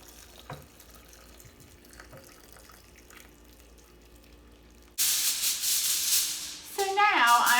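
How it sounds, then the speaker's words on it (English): Hot liquid mixture, just off the boil, pours over steak in a baking pan, a strong broad splashing hiss that begins abruptly midway and runs to the end after a quiet stretch of faint kitchen noise and a brief voice. "I'm going to pour this over my steak."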